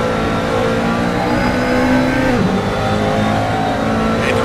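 A race car in a racing video game sweeps through the Parabolica curve at Monza, its engine roaring steadily and loud with a brief downward pitch sweep as it changes gear or passes, no talk over it.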